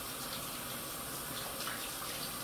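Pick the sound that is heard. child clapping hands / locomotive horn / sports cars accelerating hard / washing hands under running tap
washing hands under running tap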